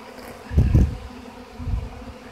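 A honeybee swarm resting outdoors in New Plymouth, Idaho, with close buzzing that swells in two brief bursts as bees fly near, over a faint background hum.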